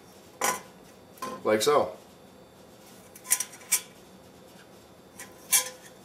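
Stainless steel Kelly Kettle grill pieces clink and scrape as they are handled, a few short metallic clatters spread out at close range, with a brief spoken remark over them.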